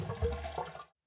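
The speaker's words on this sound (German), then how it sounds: "einmal die Betätigung noch komplett durchdrücken, bis das Wasser wirklich ganz draußen ist" A toilet cistern flushes as the actuator is pressed all the way down, and the water rushes out in a brief, close gurgling burst that stops abruptly after about a second.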